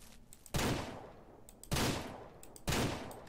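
Three loud bursts of rapid gunfire from the farming video game Ranch Simulator, evenly spaced about a second apart, each fading into a short rumbling tail.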